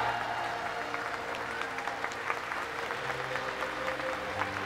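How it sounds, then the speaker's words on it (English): Crowd applause for a swimmer in the women's 400m freestyle S9 final at the ASEAN Para Games, a steady, dense clapping that fills the pool hall without a break. "Let's hear it for lane three, Yeoh Lin, as she's swimming."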